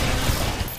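SMG fire in a video game: a brief, dense burst of rapid automatic shots, loud and close, lasting under a second with no talk.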